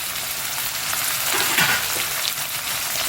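Chicken pieces and chopped tomato dropped into a hot frying pan, giving a loud continuous hiss and crackle of sizzling oil at close range with no voices.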